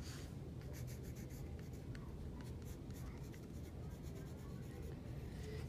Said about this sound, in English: I take out my pencil and write my name on the back of my paper.